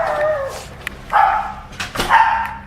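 A dog barks frantically indoors at night, giving a few close, high-pitched yelping barks and whines in quick succession.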